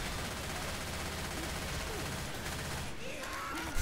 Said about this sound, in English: Spin in a circle while shooting.